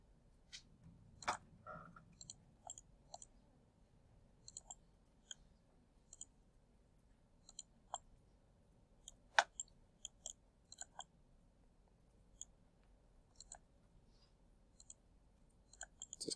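Computer mouse clicks while drawing polylines in CAD software, sharp isolated clicks at an irregular pace, close and crisp over near silence.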